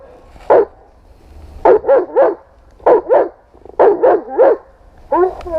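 A protection dog barks during training, delivering loud, close barks in quick clusters of two and three separated by short pauses, with no talk over it.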